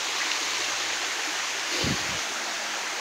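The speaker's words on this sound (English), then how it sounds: "Here's the river." Continuous broadband rush of a river flowing near a camp area in the woods, steady and close, with a brief low thump midway and no talking.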